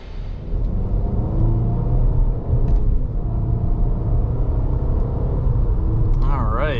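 Road and engine rumble from a 2024 Cadillac XT4 SUV on the move fills the cabin as a low, continuous drone, with a voice talking over it.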